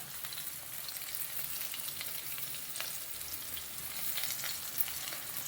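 Okra (lady's finger) fries in a pan, a faint, even, continuous sizzle with a few light crackles, heard alone without voices.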